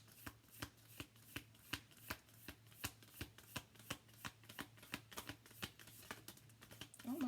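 Tarot cards are shuffled in a steady rhythm of about twenty crisp, close riffles, each a short slap, quiet and alone with no talk.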